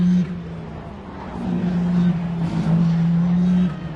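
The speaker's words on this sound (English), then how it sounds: "And there they go, the Audis." Audi race cars at Le Mans pass by with a steady, droning engine hum at moderate distance, rising and falling as they go by.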